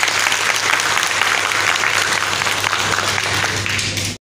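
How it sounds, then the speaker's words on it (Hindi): A crowd at a community gathering applauds loudly and steadily, a dense wash of clapping that holds for about four seconds before stopping abruptly. "इसके लिए जोर ताली बजाएं।"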